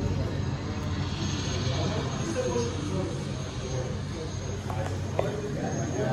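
A small passenger plane takes off from the steep sloped runway at Lukla Airport in Nepal, a steady distant propeller engine drone that stays level throughout, with voices talking faintly nearby.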